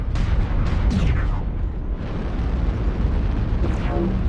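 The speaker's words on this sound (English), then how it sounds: "We got an airstrike on us." Airstrike explosions in MechWarrior Online, a continuous loud rumbling barrage of blasts with several sharper bursts on top, close and heavy throughout.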